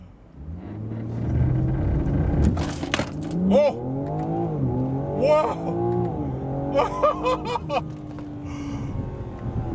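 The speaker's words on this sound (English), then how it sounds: "So I'm gonna give you guys one 0 to 60 pull just because this car is loud." A 2025 BMW M4 Competition xDrive accelerates hard in a loud zero-to-sixty run, its engine note climbing through several rising gear sweeps up close, with excited exclamations from an occupant over the roar.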